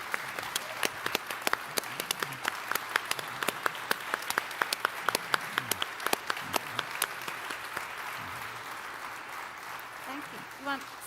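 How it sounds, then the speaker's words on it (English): Audience applause at a mayors' breakfast gathering, many hands clapping steadily for about ten seconds with distinct sharp claps standing out, then fading toward the end. "I would ask every one of us to give a loud round of applause and ask Phil to take that back to his staff,"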